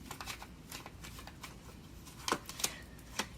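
Tarot cards being shuffled and drawn at close range, quiet riffling and flicking in quick bursts, ending in a few sharper snaps as cards are pulled.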